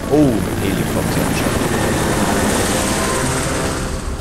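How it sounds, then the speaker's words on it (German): A helicopter's rotor chops steadily and loudly throughout in the video game Jurassic Park: The Game, a continuous thudding whir with a brief voice at the very start. "Oh, ein Helikopter."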